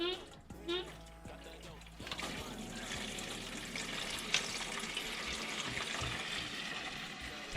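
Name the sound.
coolant draining from a Mazda Miata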